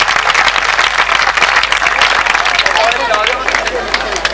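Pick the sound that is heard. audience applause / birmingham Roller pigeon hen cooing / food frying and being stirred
audience applause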